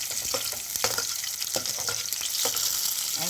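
Chilies and garlic hit a hot pan and sizzle loudly up close, with a continuous crackle and a few stirring clinks, no voices.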